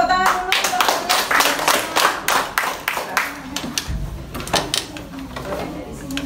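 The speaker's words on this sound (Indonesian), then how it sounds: "Silakan tepuk tangan dulu." A classroom group applauding, a burst of clapping hands that tapers into scattered claps, with some voices in the room.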